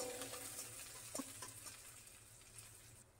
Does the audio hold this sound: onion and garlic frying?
yes